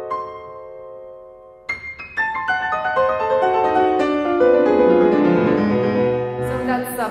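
On piano, two descending broken diminished chords from the first movement of Beethoven's Sonata Op. 111 ring out after a sustained opening chord, notes cascading downward and building into a resonant wash.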